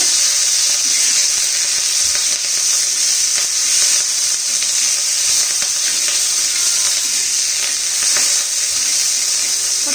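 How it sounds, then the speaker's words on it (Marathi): Curry leaves roasting in hot oil in a pan, a steady, loud sizzle and hiss that runs unbroken throughout, with faint crackles and pops scattered on top. "आता कढीपत्ता घालून घ्यायचा तो पण छान असा खर्च होईपर्यंत भाजून घ्यायचा आपल्याला"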